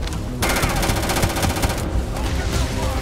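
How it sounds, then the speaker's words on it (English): Rapid automatic gunfire from a weapon in the video game Starfield, a dense unbroken stream of shots lasting several seconds, loud and close. "I like how you get pushed back when you're shooting your gun."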